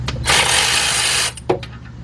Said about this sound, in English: And my cordless ratchet.